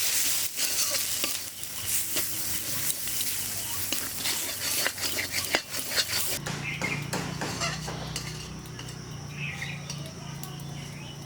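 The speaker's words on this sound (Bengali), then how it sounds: "দিয়ে আমি ভালো করে নেড়ে নেব" Spices fry in a pan for a Bengali prawn malai curry, crackling and sizzling loudly under repeated stirring scrapes, then settling into a quieter, steady hiss.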